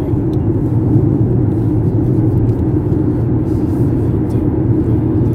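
Inside a moving car, a loud constant low road rumble and engine drone fill the cabin without pause, with no one talking.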